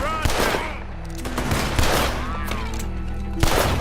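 Rapid gunfire in Red Dead Redemption 2 as several loud close shots crack in quick bursts, with ringing tails and short breaks between volleys.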